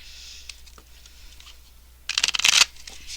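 Tarot cards riffle-shuffle in a quick, crisp burst after a few soft handling taps, close up and fairly loud, with no talking.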